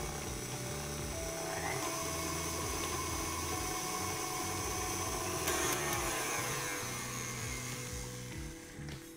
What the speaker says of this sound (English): the mixer.